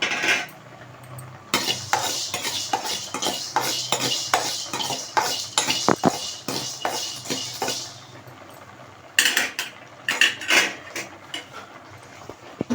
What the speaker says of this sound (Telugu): వేగిన తర్వాత ధనియాలు అనేది యాడ్ చేసుకొని ఫ్రై చేసుకోవాలి